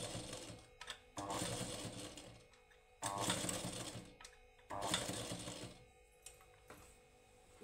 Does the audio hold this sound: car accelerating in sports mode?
no